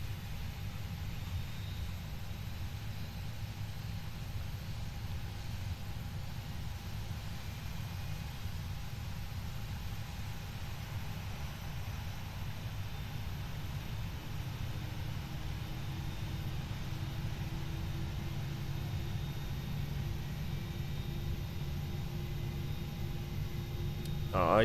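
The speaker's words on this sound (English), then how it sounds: "We're gonna go to a wing view real quick while we watch the engine start up." An airliner jet engine in the Prepar3D flight simulator game spools up as a steady low rumble and hiss, with a thin whine that starts rising about halfway through and swells near the end. No one talks.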